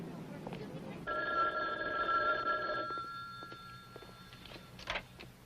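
A telephone rings on a call line, a steady electronic ringing tone lasting a couple of seconds at moderate level over a quiet room background, followed by faint shuffling.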